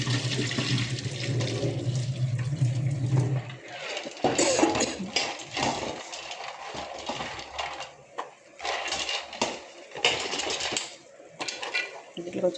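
Water is poured into a pot of soaked beans for boiling, a splashing, gurgling pour over a low hum, then breaking into uneven bursts of sloshing and clatter nearby.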